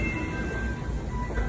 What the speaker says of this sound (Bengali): যে ট্রেন চলে আসছে।